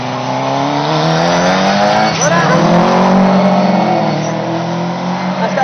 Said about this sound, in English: That's that sequential gearbox to us.